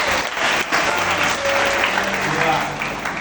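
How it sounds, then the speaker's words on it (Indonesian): A church congregation at a revival service applauds, a loud continuous wash of clapping, while a voice speaks over it. "Boleh tepuk tangan buat Bapak."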